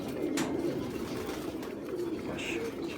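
A male Missay breed pigeon coos nearby in soft, low, repeated rolling calls, steady through the moment, while someone talks over it.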